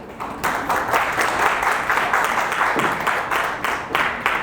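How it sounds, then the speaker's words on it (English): Many hands clap together at a breast cancer awareness gathering held by an African women's association in Bahrain, a full, continuous round of applause filling the room with little talk. "that deserves a clap, come on"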